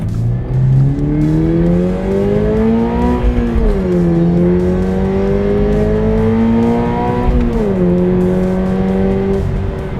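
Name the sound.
sports car exhaust while accelerating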